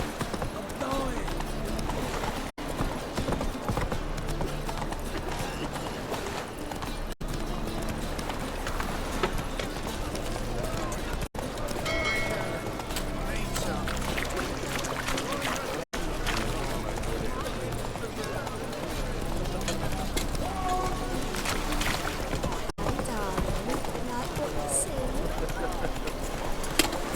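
Galloping hooves of Roach, Geralt's horse in The Witcher 3: Wild Hunt, clip-clop steadily and loudly throughout, mixed with game music and a talking voice, with a few brief cuts.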